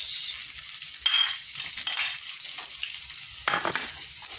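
Garlic and onion frying in oil for a large batch of chicken adobo give a continuous bright sizzle and hiss, close and steady, with occasional stirring swells.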